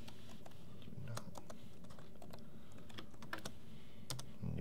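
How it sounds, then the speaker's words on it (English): Fingers type a short phrase on a computer keyboard while setting up a red and black label for a Brother QL-810W printer on Windows; a steady run of light, close clicks and taps over quiet room tone. "Type in do not."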